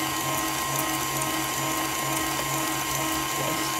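An electric mixer beating egg whites at a slowed-down speed for a zero-carb angel food cake, giving off a steady, unbroken motor whir with a faint rhythmic rattle throughout, alone and close.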